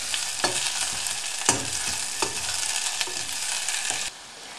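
Onions and a cinnamon stick sizzle steadily in a frying pan, with a few louder scrapes of stirring over the continuous crackle until the frying drops away near the end.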